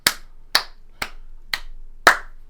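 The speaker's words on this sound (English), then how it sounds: "don't mind those claps. I'm just clap syncing my other 7 podcasts" Five sharp hand claps at an even pace about half a second apart, close and crisp against a quiet room, struck to sync podcast recordings.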